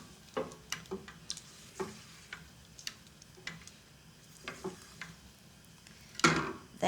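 Condensed milk heated and stirred in a pan for chocolate barfi, with faint sizzling beneath a series of soft, irregular taps and scrapes of a spoon, ending in a louder clatter.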